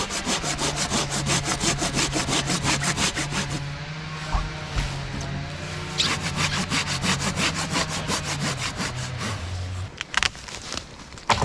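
A hand saw rasps steadily back and forth through dead wood in fast, even strokes, close up, with a brief pause and a crackle near the end.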